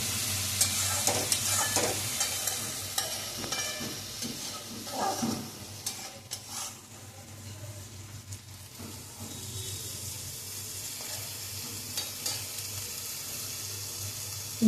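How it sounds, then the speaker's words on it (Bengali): Shrimp frying in hot oil in a kadai while being stirred: a continuous close sizzle with scraping and clinking of the utensil at irregular moments, louder in the first half, with no talking over it. "ওই তেলেতে চিংড়ি মাছগুলো দিয়ে দেওয়া হলো।"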